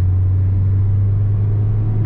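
Citroen XM 2.1 TD diesel engine under full throttle around 2000 RPM, heard from inside the car as a loud, steady low drone with constant road rumble and no talk.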